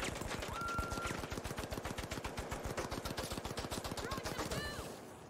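An automated turret in the shooter game The Finals fires without pause, a steady rapid rattle of evenly spaced shots running the whole time, with a voice talking faintly alongside and a few electronic chirps mixed in.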